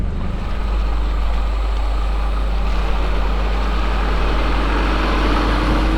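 A 4x4 truck rolls slowly down into a creek crossing, its engine a steady low rumble close by, continuous and even throughout with no talk.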